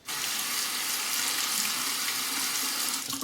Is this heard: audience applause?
no